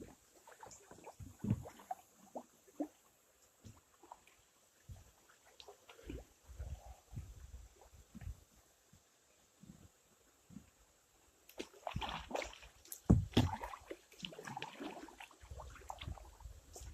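A kayak is paddled on a river, with intermittent close splashes and dips of the paddle, quiet stretches between strokes, and a busier burst of splashing and gurgling toward the end.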